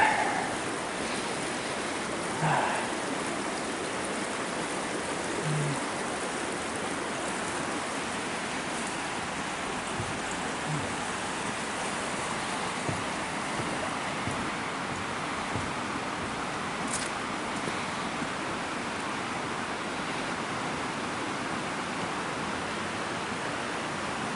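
The Salmon River in Pulaski, New York, flows along the River Walk Trail in January, giving a steady, broad rushing wash that stays even and unbroken throughout, with no voices.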